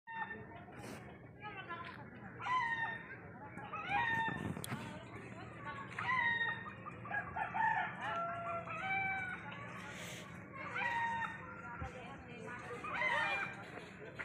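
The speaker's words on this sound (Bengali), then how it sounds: "আমার সাদা চিকেন, হ্যাঁ, সাদা মুরগি" In a village yard, a white hen clucks and a rooster crows repeatedly at moderate distance, the calls recurring every few seconds while people talk nearby.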